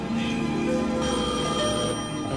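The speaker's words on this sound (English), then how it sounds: "answer that phone." Telephone bell ringing in a 1979 soul recording, a loud, continuous trill mixed with music and no talking.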